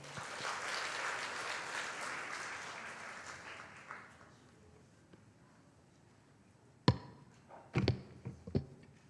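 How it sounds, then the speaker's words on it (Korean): A church congregation at a Sunday worship service breaks into applause, a dense, warm clatter of many hands that fades out over several seconds, followed later by a few sharp isolated knocks. "자, 우리 박수"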